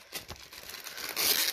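Paper wrapping on a New Year gift package is torn and crinkled in several quick rustling bursts, growing louder near the end as the package is pulled open.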